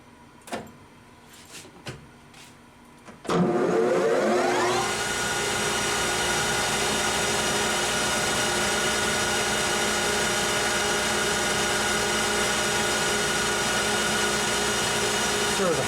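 A few sharp clanks, then a machine spins up to a loud, steady metallic whine and keeps running at constant pitch.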